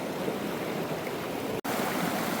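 A shallow rocky stream runs and froths over large boulders along the way to Ooty, a continuous close rushing wash of water with one brief dropout midway.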